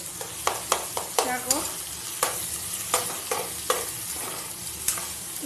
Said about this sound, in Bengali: আর এটা তো ভালো করে ভাজা ভাজা করতেই হবে